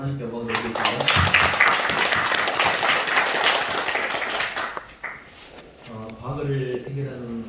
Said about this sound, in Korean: 박수로 하나님께 영광 드리겠습니다.